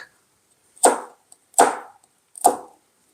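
A knife slices diagonally through garlic cloves being prepared as an organic kitchen remedy for black spots on orchids: three crisp, separate cuts, close and fairly loud, with quiet pauses between them and no talking.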